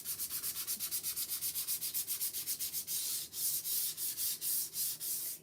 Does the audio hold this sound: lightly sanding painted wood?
yes